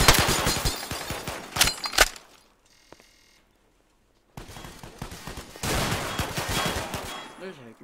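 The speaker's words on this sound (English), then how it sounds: "We're taking heavy fire." Rapid automatic gunfire in the online shooter Atlas Uprising, loud bursts at the start, a short near-silent gap, then dense sustained firing returning for the rest.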